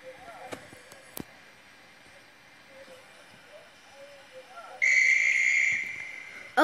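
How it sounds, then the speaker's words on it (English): A guard's whistle sounds shrill and steady for about two seconds near the end, rising out of a quiet, faintly hissing railway backdrop with a short sharp click earlier on. "Oh, that must be my guard's whistle."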